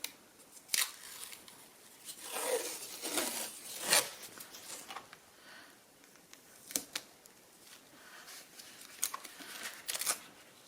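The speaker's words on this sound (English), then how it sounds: "we're just going to run another piece of tape" Tape pulled off and pressed onto paper for a handmade lap journal, a few quiet, sharp tearing and crinkling bursts separated by near-silence.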